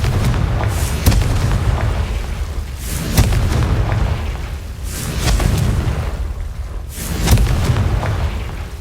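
Confringo fire spell blasts from the video game Hogwarts Legacy, a string of heavy booming explosions recurring every second or two over a dense rumbling low-end bed, loud and close.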